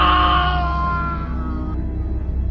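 A man screams as a horror story sound effect, a loud drawn-out tonal cry that fades and sinks into a low rumbling tail.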